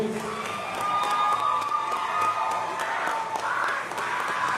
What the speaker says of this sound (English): How about another round of applause for all our graduates?